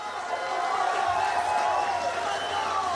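Crowd at a Call of Duty esports event, MLG CWL Dallas 2017, cheering and roaring in a steady wash, with an announcer speaking over it.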